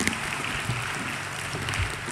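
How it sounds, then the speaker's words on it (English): A crowd applauds steadily at a graduation ceremony after a performance, dense clapping holding at an even level for the whole stretch. "Once again, a round of applause."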